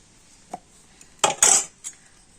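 A spoon mixes salt into rice-flour batter for paper pitha, producing a few brief, close clinks and scrapes against the bowl, spaced out over a quiet background.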